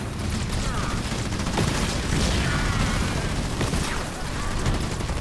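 Dense, continuous gunfire and explosions from a Halo Wars 2 battle rumble on without pause, with a layered military soundtrack beneath.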